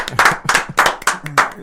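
Hand clapping, about five sharp, loud claps in a quick, fairly steady rhythm, close by.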